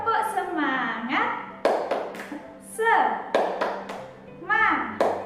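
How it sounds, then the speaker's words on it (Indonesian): Children in a first-grade classroom do a rhythmic spirit clap, with sharp clapped beats in a patterned sequence mixed with their chanting voices close by. "Tepuk semangat."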